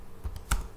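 Keys tapped on a computer keyboard while typing HTML code, a few soft separate clicks with one firmer keystroke standing out, close and quiet.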